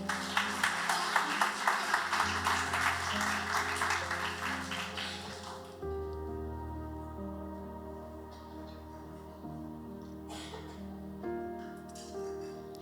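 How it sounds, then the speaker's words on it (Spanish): Congregation applause for the Lord at an evangelistic campaign: about six seconds of dense, rhythmic clapping over loud music, then the clapping fades and the music carries on alone. "Denle un fuerte aplauso al Señor."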